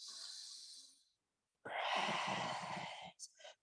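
A long, airy exhale during a vinyasa flow yoga practice, a broad breathy rush that fades out, then after a pause a second strong breath out ending in a couple of short puffs, close and alone.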